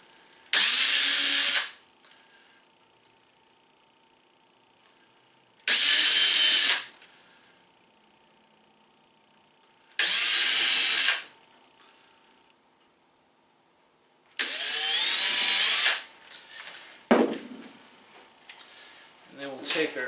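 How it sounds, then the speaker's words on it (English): A power drill with a tiny bit bores pilot holes into wood for teardrop trailer cabinet doors, in four separate short bursts of high whirring spaced a few seconds apart, close and loud, with quiet gaps between. "I'm using a small, tiny little drill bit, and we're just going to tap a few little holes here to help us line things up"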